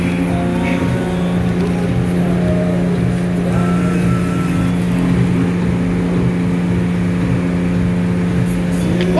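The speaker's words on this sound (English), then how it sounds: "the pump in the other bay just came on." Pump running in the neighboring bay of a self-serve car wash, a loud steady mechanical hum with a strong low tone, continuous and unchanging throughout without any talking.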